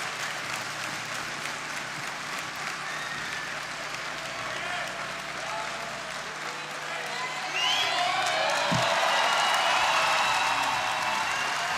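Gymnastics crowd at the Osijek World Challenge Cup applauding after a pommel horse routine, steady clapping that swells louder toward the end, with a commentator talking over it.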